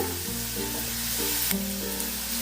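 Chopped onions sizzle steadily in hot oil in a pan, a continuous bright crackling hiss close up with faint tonal hum underneath, no voices.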